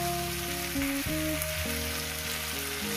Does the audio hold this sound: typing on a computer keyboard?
no